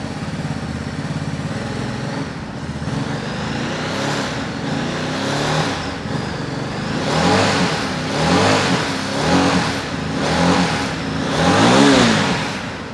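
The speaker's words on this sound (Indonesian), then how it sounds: "Ini masih cold start teman-teman. Khas banget 2 silinder V-twin ya" Ducati DesertX Rally V-twin motorcycle engine running from a cold start, loud and close, with a steady lumpy idle and repeated revs that swell and fall, rising higher toward the end.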